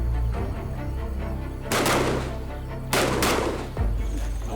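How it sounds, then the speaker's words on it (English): Live-fire gunshots ring out at a training range used by tiger protection rangers: three sharp, loud reports with echoing tails, spaced about a second apart over a steady background rumble. "After the simulations, it's live fire."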